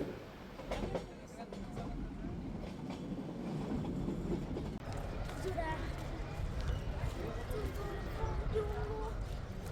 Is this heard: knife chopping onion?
no